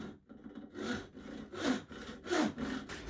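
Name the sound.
saw cutting a live edge wood slab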